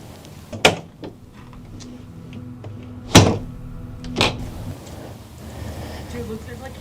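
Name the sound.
door being locked in abandoned building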